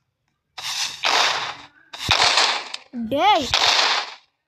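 Gunfire in the Roblox shooter game Fortline comes in three loud, rapid bursts of shots, with a brief shout and a rising-and-falling voice-like sweep between the bursts.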